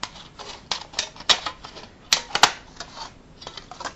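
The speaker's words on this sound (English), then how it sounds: "I always cut to the nutritional label part of the can" Scissors snipping through a thin aluminum drink can to make embossed craft pieces, a quick series of sharp crisp clicks and crunches at close range, irregular in rhythm, with no talking.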